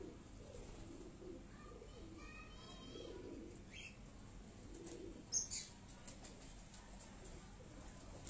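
Dewlap pigeons, including a female, coo softly in a quiet loft, with faint low murmurs and a few thin chirps spread through the scene.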